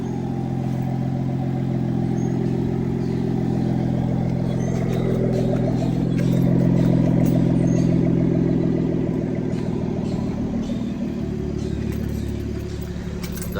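Idling BMW 440i fitted with a Speed Tech top-mount 6466 turbo, just after a cold start, holding a steady, loud, rumbling idle throughout with slight swells and no revving.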